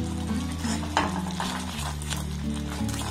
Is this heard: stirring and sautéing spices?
yes